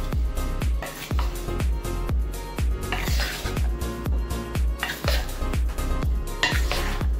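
Chicken stew seasoned with thyme and curry being mixed in a pot, a spoon scraping and clinking against the metal in a steady rhythmic series of strokes, close and clear with no talking.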